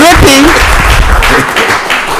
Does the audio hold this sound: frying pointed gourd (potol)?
no